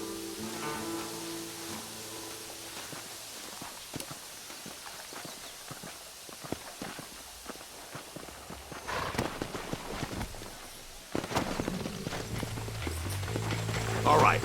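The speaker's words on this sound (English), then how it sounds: "There should be some horses for us across the way." Horse hooves clop in a rhythmic trot in the video game Red Dead Redemption, over a low ambient bed, steady and moderately near, picking up in intensity toward the end alongside a rising tone.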